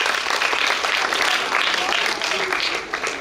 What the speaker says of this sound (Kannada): ಉಚಿಲಬೋವಿ ಶಾಲೆಗೆ ಜೋರಾಗಿ ಒಂದು ಚಪ್ಪಾಳೆ ಹೊಡೀರಿ ಮಕ್ಕಳೇ.